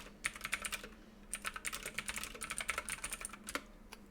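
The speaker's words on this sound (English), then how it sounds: "And I'll just go ahead and type that." Quick keystrokes on a computer keyboard come in two bursts separated by a short pause, soft and close, with a faint low hum behind them and no talking.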